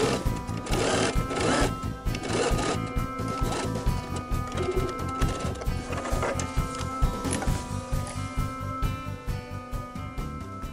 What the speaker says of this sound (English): we're going to go to the sewing machine and we're going to top stitch that down